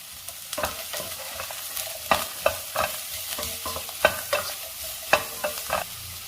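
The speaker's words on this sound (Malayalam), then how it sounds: "എല്ലാം കൂടെ ഒന്ന് വഴറ്റിയെടുക്കണം." Onion, carrot and bitter gourd sauté in oil in a pan, a soft steady sizzle broken by repeated sharp scrapes and clacks of a spoon stirring against the pan, close and alone.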